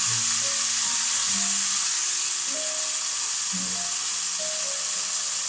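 Bacon sizzles steadily in a frying pan for a bacon cheeseburger and fries, a loud continuous hiss and crackle with faint tonal kitchen sounds underneath.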